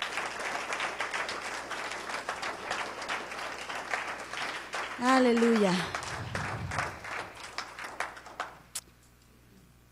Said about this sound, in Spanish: ¿por qué no damos un fuerte aplauso al Señor en esta tarde?